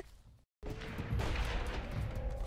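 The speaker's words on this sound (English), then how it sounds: "I hear shooting over there" Gunfire from the dinosaur shooter game Primal Carnage Extinction, a dense burst of shots and crashing impacts that fills the clip loudly after a brief silent gap, with no talk over it.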